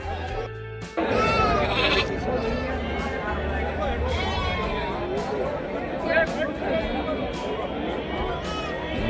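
Sheep and goats, rams among them, bleat repeatedly and close by at a busy Monday livestock market in Kittur, Belagavi, Karnataka, over a constant murmur of crowd chatter and people talking.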